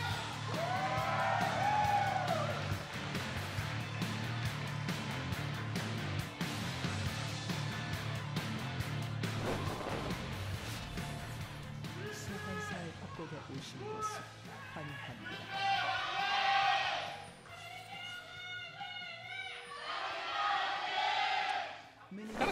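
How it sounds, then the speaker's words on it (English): An esports arena crowd at an LCK Summer Split League of Legends match chants a rhythmic team cheer for Griffin, rising and falling in loud waves, with commentators talking over it. "Kind of sounds like Griffin has their own specific cheer."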